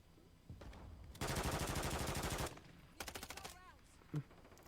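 Automatic gunfire in an online battle royale shooter, two rapid bursts of rapid shots, the first long and the second short, followed by a faint thud, with no talk.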